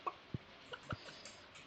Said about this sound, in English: I've got two brown chickens.